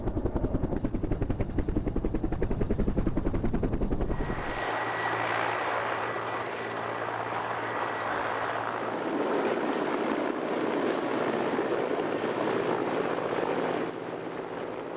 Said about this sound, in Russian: Вертолет летит над Обью, широко раскинувшейся в своих низовьях.